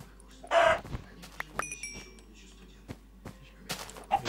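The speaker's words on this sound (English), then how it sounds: "Come on, chicken, I need you." A Minecraft chicken clucks in the game, a sharp loud burst near the start followed by a few fainter clucks and scattered game noises, with no talk over it.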